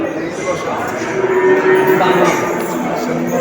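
Pregnant imported Simmental cows at a crowded livestock market in Çubuk, Ankara, a loud close moo rising over a murmuring crowd and market bustle.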